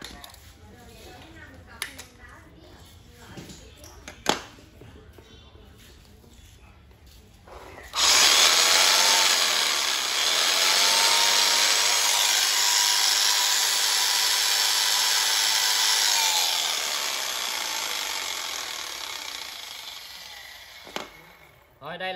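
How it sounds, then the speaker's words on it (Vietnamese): A Makita 390W electric jigsaw starts up after some handling noise, running loud and steady for about fourteen seconds before winding down; someone talks over the quieter parts. "Rồi đây là con cưa lỏng luôn, hàng Makita, 390W."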